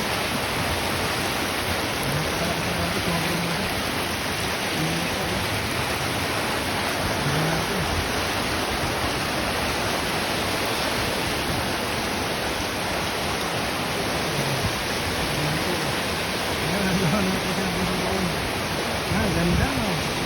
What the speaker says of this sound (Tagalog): Tapos malakas ang agos, malinaw.